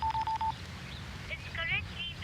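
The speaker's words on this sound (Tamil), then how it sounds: "ஃபோன் நம்பர் ட்ரை பண்றா." A telephone number is keyed in, a quick run of four short DTMF beeps, followed by faint warbling electronic tones and background hiss.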